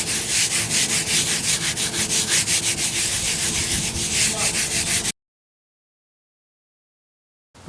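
Portland cement and sand are rubbed by hand into wet concrete on sidewalk steps, a loud, close, rhythmic scraping that repeats steadily for about five seconds and then stops, leaving silence.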